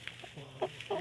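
Short clucks from a red chicken, a few separate bursts spread across the moment, fairly close and moderately loud over low background noise.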